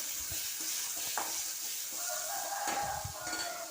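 Onion and two chopped medium tomatoes sautéing in a pan, a quiet steady sizzle with occasional stirring scrapes, and a rooster crowing faintly in the background.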